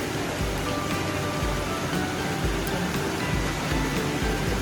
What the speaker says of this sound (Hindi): अभी भी स्टिल बारिश बहुत हो रही है